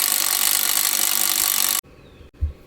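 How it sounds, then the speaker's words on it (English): A loud power drill whirs continuously, then stops abruptly, followed by a brief quiet thump. "so I'm going to drill these two holes"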